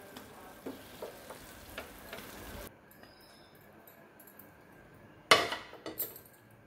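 Arbi mawa pak is stirred in a pan on a switched-off stove, giving a soft scraping hiss that stops partway through, followed by a few sharp metallic clinks of a spoon against the pan.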